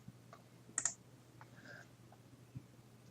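A few soft mouse clicks while editing photos in Lightroom, a brief double click near the start and a single faint click later, quiet against a steady low hum.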